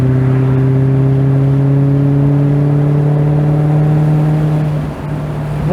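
Maserati GranTurismo engine droning steadily and loud from inside the car, its tone climbing slowly as the revs pass 2,000 RPM, with a short dip near the end.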